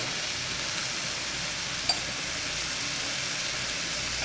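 Banana flower pieces fry in a pan with a steady, even hiss that runs throughout, close and moderately loud, broken once by a single faint tap.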